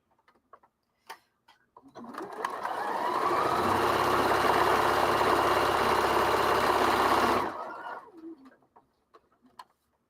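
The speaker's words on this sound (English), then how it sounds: "So now I'm going to do a 1/2 inch seam." A sewing machine runs steadily for about five and a half seconds while stitching a half inch seam, a continuous close whirring hum that starts and stops abruptly, with faint soft clicks and handling noises before and after.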